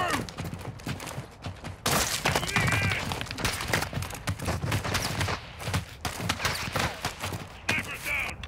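Sniper gunfire in a cartel-themed shooter game, sharp cracks and scattered bursts over busy combat noise, fairly loud, with voices calling out during the fight.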